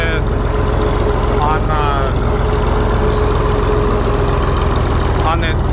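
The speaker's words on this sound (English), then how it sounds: "There's the truck." A truck engine idles steadily and loud beside a gravel road where a bulldozer is being loaded, a constant low rumble throughout with a voice talking over it.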